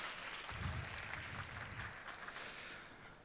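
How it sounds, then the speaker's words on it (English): A conference audience applauds a speaker, a faint, steady wash of many hands clapping together that tapers off slightly toward the end. "give yourselves a big round of applause."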